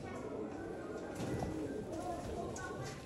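Soft pigeon cooing, low and throaty, repeats over a steady background hum, fairly close.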